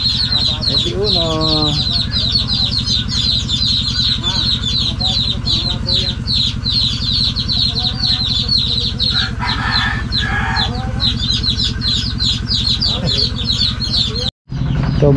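Chickens cluck steadily and loudly throughout on a backyard poultry setup with many laying hens, a rooster-like call rising near the start, dense layered calls continuing close by until a brief cut near the end.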